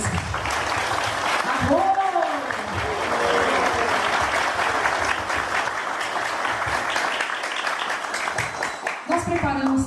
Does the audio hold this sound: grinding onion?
no